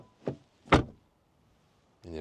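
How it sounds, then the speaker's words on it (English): Front door of a Cupra Terramar shutting, a deep, solid thud following a lighter knock, then a brief quiet before a voice starts talking. "Then door closing sounds. Really solid in the front."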